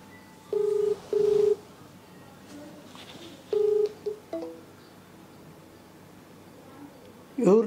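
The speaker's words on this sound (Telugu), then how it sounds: "వేరే అన్న ఫోన్ చేస్తా" Several short electronic keypad tones from a telephone being dialed, sounding in a few separate bursts with pauses between them, fairly close, with some background noise and brief voice sounds near the end.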